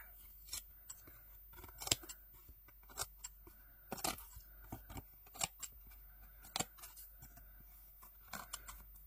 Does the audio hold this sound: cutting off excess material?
yes